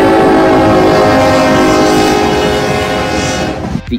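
Three CSX ES44AH diesel-electric locomotives of the 4,400-horsepower Evolution Series roar past close by, with a loud, sustained engine drone and rich horn-like tones. The sound fades out near the end.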